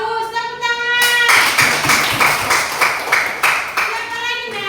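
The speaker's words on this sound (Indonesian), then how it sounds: "Bagus, tepuk tangan." Students in a classroom clap their hands together in a brisk burst of rhythmic applause, fairly close and loud, with a voice speaking before and after the clapping.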